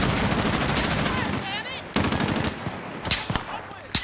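Rapid automatic gunfire crackles in a Call of Duty Modern Warfare match, bursts of shots repeating loudly with short pauses between volleys, while a player talks over the action.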